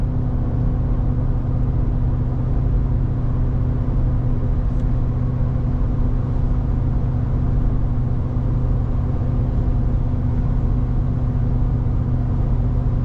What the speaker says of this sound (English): Pulling a slight grade, hear the motor's working a little.